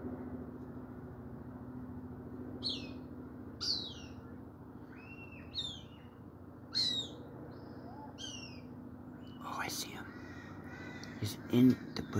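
A hawk hidden behind bushes gives a series of sharp, high calls at irregular intervals, moderately distant, while wind and faint outdoor noise run underneath and a brief knock or handling noise comes near the end.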